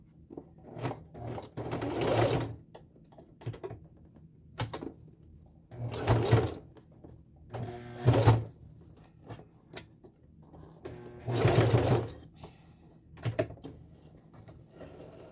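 A domestic sewing machine stitching a zipper into a corset runs in repeated short bursts of rapid mechanical whirring and needle clatter, separated by pauses with small clicks and handling noises, close and fairly loud.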